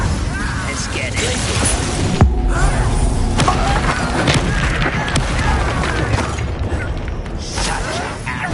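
A fiery Incendio spell cast in Hogwarts Legacy on PS5 erupts as a whooshing burst with a sharp hit, buried in dense, continuous game effects and music, with voices speaking throughout.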